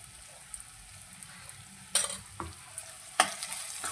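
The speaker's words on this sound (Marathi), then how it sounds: "परत याला एकदा परतून घ्यायचं." Spice masala with red chilli, turmeric and byadgi chilli powders sautéing in a pan for a dhaba-style garlic fenugreek dish, giving a soft, quiet sizzle with a few sharp stirring scrapes near the middle and end.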